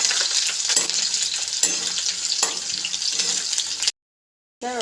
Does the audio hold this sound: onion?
yes